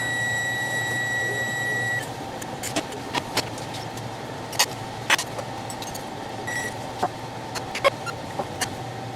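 A steady electrical hum runs underneath, then a scattering of short, sharp clicks and beeps from a microwave oven, spaced irregularly over several seconds.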